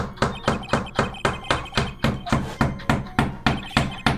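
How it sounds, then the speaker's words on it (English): Rapid, evenly spaced hammer blows drive something into an indoor wall to hold up a curtain, about four sharp strikes per second, close and loud with no talking between them. "he's just gonna hammer it into the wall"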